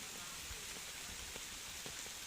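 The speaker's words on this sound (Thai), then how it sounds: "ฝนก็กำลังตกเลย" Steady rain falls beside the Khwae Noi river, a soft, even hiss throughout with occasional distinct drops, fairly faint and without talk.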